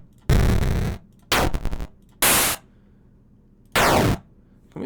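Retro synthesized explosion effects generated in BFXR for a Unity first-person shooter, four loud noisy bursts of varying length separated by brief gaps.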